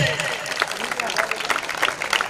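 Crowd applause at a village-level kabaddi tournament in Kolkewadi, a dense spread of hand claps with an announcer's voice talking over it throughout.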